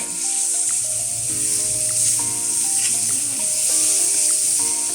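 Pork stir-fried in a pan for Thai egg fried rice gives a steady, loud sizzle and hiss throughout, with occasional stirring scrapes and soft background music.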